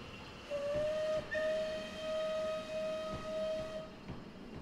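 Steam whistle of the Merchant Navy class locomotive Clan Line in Train Simulator 2020: a clear, sustained tonal blast, briefly broken and then resumed for several seconds over low rail rumble and hiss.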